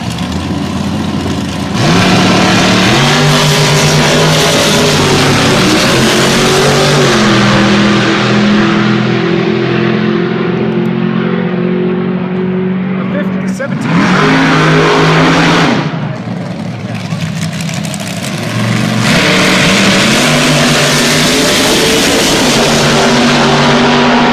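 Drag-racing cars roar down the strip at Rocky Mountain Speedway at night, loud revving runs with rising gear-change sweeps, a brief lull mid-run, then another pass building up.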